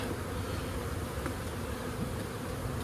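Honey bees swarm around an open deep brood box, producing a dense, steady buzzing drone at moderate loudness, with no one talking.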